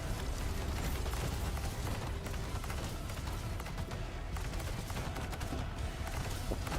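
Rapid gunfire in Arknights: Endfield rattles nonstop, a dense, loud fusillade of shots layered with mechanical clatter and effects, running steadily throughout without pause.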